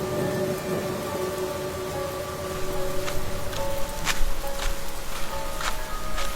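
Steady rain falls in a cartoon scene, a constant patter with a few sharp drip-like knocks and low rumbles mixed in, with a faint musical drone underneath and no talk.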